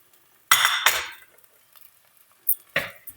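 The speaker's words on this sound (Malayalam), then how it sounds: "നമുക്ക് ഈ ഉള്ളി ഒന്ന് മൂപ്പിച്ചെടുക്കാം" Onion, a large piece of ginger and four or five ripe green chillies hit a pan, giving two loud bursts of sizzling and stirring near the start, a quiet stretch, then two more short scraping sizzles near the end; no talking.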